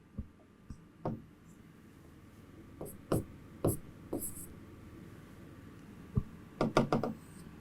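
Writing on a board during a chemistry lesson makes faint scratches and sharp taps in irregular bursts, with quiet gaps between groups of strokes.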